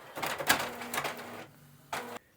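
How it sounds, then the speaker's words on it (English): The top panel of a Canon PIXMA TR7120 inkjet printer is lifted open, giving a close plastic scraping and rattling followed by a short clunk as it settles. "First, we need to open the top panel of the printer."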